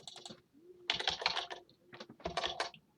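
Someone types a caption on a computer keyboard, producing quick bursts of crisp, close key clicks separated by short pauses.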